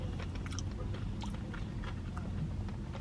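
Close, steady chewing and crunchy biting of mildly spicy shrimp boudin balls, wet mouth sounds continuing through the whole stretch.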